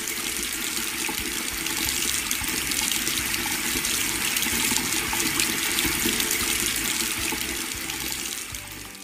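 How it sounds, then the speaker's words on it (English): Water pours steadily from a tap in a constant, hissing rush that fades slightly at the end. "Faucet sound"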